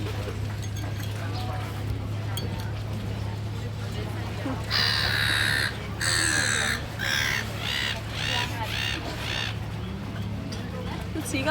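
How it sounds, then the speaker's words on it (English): Seagulls at Lake Garda give loud, harsh, repeated calls in a quick burst of about six cries over a steady low background hum. "The seagulls are so funny."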